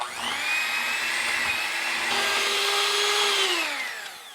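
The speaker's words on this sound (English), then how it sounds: "So the first thing I wanna do is cream my sugar with my butter and my peanut butter." An electric mixer creams sugar, butter and peanut butter, a loud whirring motor whine that shifts pitch partway through and winds down near the end, heard alone without talk.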